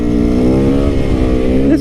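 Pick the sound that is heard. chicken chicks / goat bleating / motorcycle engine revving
motorcycle engine revving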